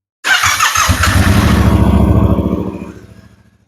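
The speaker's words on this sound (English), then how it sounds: "I wanted to start the bike up and just give a quick, stock muffler sound clip" A Yamaha R7 motorcycle with its stock muffler cranks and fires up, settling into a steady, fairly loud idle burble that fades out toward the end.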